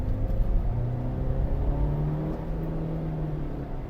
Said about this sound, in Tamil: வண்டி வந்து செகண்ட் கியரில் இருக்குது இப்போ நான் அப்படியே புஷ் பண்ணுறேன் பாருங்க